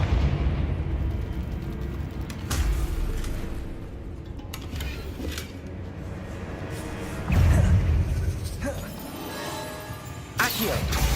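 Fire-blast spell explosions in the Hogwarts Legacy video game: repeated booms and bursts at irregular intervals, a couple of louder blasts standing out, over continuous game noise, with a voice talking now and then.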